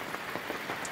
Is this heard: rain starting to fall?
yes